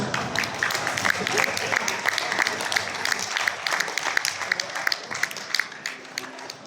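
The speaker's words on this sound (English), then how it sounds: "Please give them a round of applause." An audience at a book launch at a university venue gives a round of applause, sustained close clapping from many hands for several seconds that tapers off at the end.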